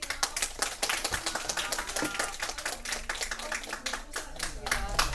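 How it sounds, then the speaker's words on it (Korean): Audience clapping for a professor at the end of a lecture on the US constitution at a university seminar, a brisk burst of individual hand claps in an indoor hall, close and crisp, with voices talking through it. "시간이 교수님 박수로 보내드릴게요."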